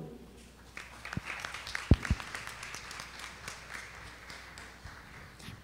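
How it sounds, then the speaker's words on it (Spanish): Scattered applause from an audience at a Women's Day equality conference in Acapulco, welcoming a lecturer; a modest, fairly distant patter of hands with a couple of sharper nearby claps, fading quickly. "Demos un fuerte aplauso a la conferencista Nadia Maciel Paulino"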